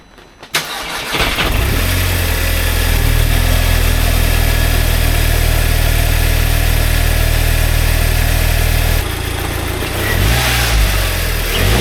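A modified car engine fires up on its first start, a short crank catching into a loud, steady idle that runs close and alone for around eight seconds before shifting, with a brief change and a blip near the end.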